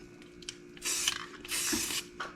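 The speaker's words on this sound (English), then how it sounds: "I'm gonna add a little spray paint" Two hissing bursts of an aerosol spray paint can, each about half a second long, with faint clicks and rattles around them, sprayed into epoxy for a marble-effect countertop.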